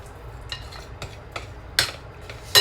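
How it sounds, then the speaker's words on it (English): Spoon or utensil stirring flour into bread dough in a bowl, a series of short scraping clicks at irregular intervals, the last few louder and brighter. "Make sure you get all the flour out of the bowl. Mix it again."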